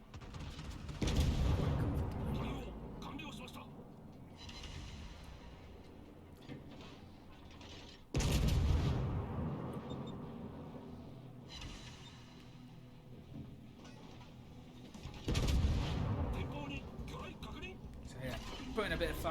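Battleship Yamato firing its main guns in a naval video game, three heavy booming salvos spaced several seconds apart, each fading into a rumbling tail over ambient game noise.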